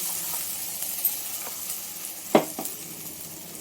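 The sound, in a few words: ground green masala added to frying onions, sizzling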